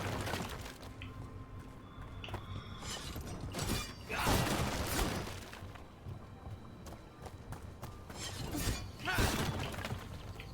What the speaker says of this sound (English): Okay, so we're smashing some boxes.